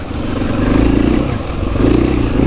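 A 2020 KTM 500 EXC-F dirt bike in stock form ridden off-road, its engine a loud, steady close-up drone that swells with throttle twice, with a faint rattle of clatter underneath.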